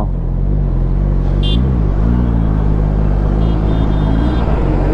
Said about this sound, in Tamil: என் வண்டி சவுண்டுக்கு மேலே அந்த சவுண்டு வண்டி வருது